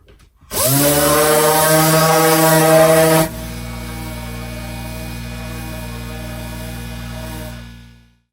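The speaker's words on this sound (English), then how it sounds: "I'll now demonstrate an optimal pressure, again, letting the tool do the work. You'll see it run at a nice even speed" A Dynabrade random orbital sander spins up sharply and whines loud and close, then settles into a lower, steady, even hum under optimal pressure before winding down at the end.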